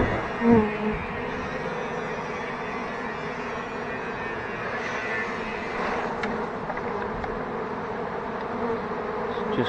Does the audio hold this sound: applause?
no